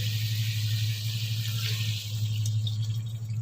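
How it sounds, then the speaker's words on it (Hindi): Water runs in a steady, unbroken stream into a cooking pot of fried potatoes and green chillies for aloo gosht, a close kitchen pour lasting a few seconds. "अब मैं इसमें पानी ऐड करूँगी।"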